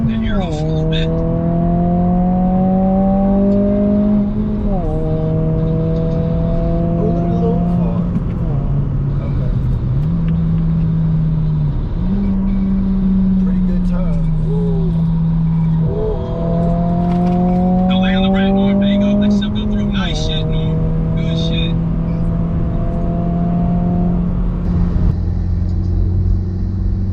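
BMW 330i car pulling off and accelerating on a mountain road, engine note climbing steadily through several gear changes with brief dips between shifts, loud and close throughout, with people talking over it.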